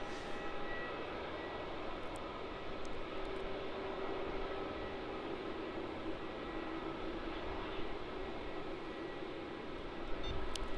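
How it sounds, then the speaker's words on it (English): A United airliner taxis slowly at Melbourne Airport, its engines a steady, moderately distant broadband roar and whine with a faint tonal hum that holds level throughout. "There's United slowly taxiing past and going to make its way over there to Terminal 2"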